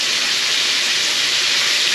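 Butter melting in a hot pan on a turned-down burner gives a steady, even hiss of sizzling, close and continuous without pauses, with no talking over it.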